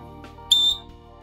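A basketball referee's whistle gives one sharp, loud blast lasting about a quarter second, piercing and steady in pitch against a quiet indoor background.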